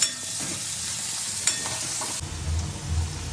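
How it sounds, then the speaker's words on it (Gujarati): Noodles fry in hot ghee with a steady, close sizzle and scraping stirs, the crackle swelling fuller and heavier partway through. "ઘી દીધીને વઘારવાના છે નૂડલ્સ"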